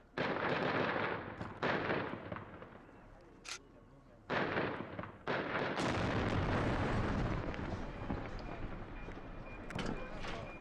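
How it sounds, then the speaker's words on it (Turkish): A huge, booming explosion bursts out as a car bomb is detonated by gunfire, followed by a long roar and crackle of burning and debris, after several earlier loud bangs. "Bomba yüklü araç öyle büyük bir gürültüyle patladı ki paramparça olan araç alev topuna döndü"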